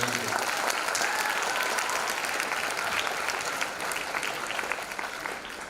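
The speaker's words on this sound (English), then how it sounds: "a big round of applause for the choir" An audience at a school annual day claps for the choir in a dense, sustained round of applause. It holds steady at first and thins slightly toward the end, with no talking over it.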